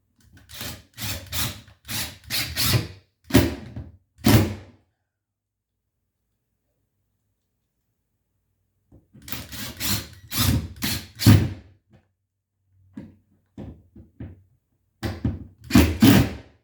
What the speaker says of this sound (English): So now I'm just going to use 2 more screws to secure the piece that we added.